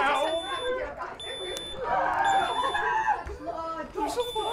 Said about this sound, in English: Your smoke alarm will likely go off before you're ever aware of the fire.